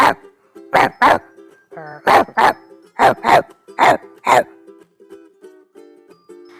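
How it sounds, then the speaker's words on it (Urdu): A cartoon dog barks repeatedly in loud, close bursts, mostly in pairs with short gaps between, over a quiet background. "تھوڑی دیر بعد کتے نے بھونکنا شروع کر دیا۔"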